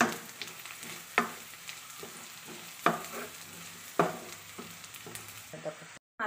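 Onions fried with cumin powder in a pan for a squid roast are stirred with a spoon, giving steady sizzling broken by several sharp scrapes against the pan, close and clear with no talking.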